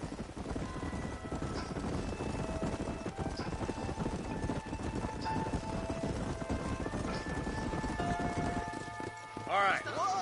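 Horses ridden across open country in Red Dead Redemption, a steady patter of hoofbeats running under a continuous game soundtrack of sustained tones, with no talk over it.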